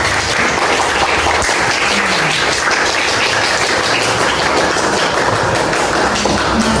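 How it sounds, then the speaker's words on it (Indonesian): Applause fills a classroom as students clap for a group that has just shared its conclusions, a dense, steady patter of many hands lasting throughout. "Kita kasih aplaus terlebih dahulu."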